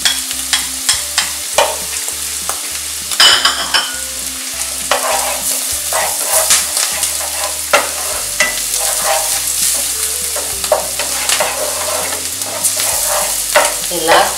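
Garlic sizzling steadily in a hot pan with faint stirring scrapes and clinks, close and continuous with a brief louder crackle partway through.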